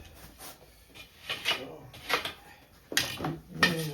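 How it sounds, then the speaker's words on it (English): An iron casting is pulled and broken out of its sand mold, giving a series of soft scraping, crumbling rasps and gritty rubs in irregular bursts, close and fairly quiet. "see if I can break it out of the sand underneath."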